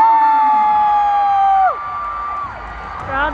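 Crowd at a dance championship cheering for a dancer named Madison: high sustained whoops and shrieks that drop off after under two seconds, leaving quieter murmur and scattered calls.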